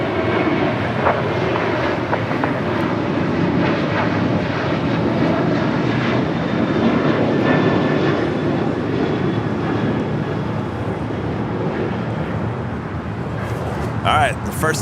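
An Airbus A380 airliner pushing back at Los Angeles International Airport, its steady broad engine roar filling the scene at a distance over constant apron noise, with a voice speaking faintly at moments.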